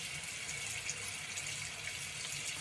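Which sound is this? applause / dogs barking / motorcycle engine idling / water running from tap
water running from tap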